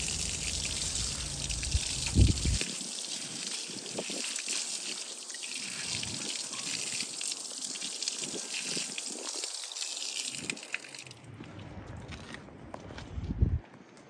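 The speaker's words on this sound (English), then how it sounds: "Just rinse it all off as best you can" Water rinsing caustic cleaner off a brass piece: a soft, continuous trickle and splash with a few light knocks, quiet and fairly close, with the flow dropping off near the end.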